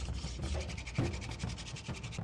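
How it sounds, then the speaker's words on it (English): Hand drill friction fire, a wooden stick spun between the palms against a wooden board, giving a steady close rubbing and scraping with rhythmic pulses throughout and no talk. "This traditional friction fire method called hand drill is how we're going to start this fire."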